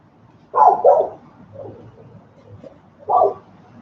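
A dog barks at a neighbour's dog outdoors, giving a couple of quick, fairly close barks, a softer yip and a final bark after a short pause, with no talking.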